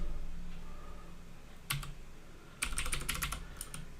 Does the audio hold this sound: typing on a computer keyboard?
yes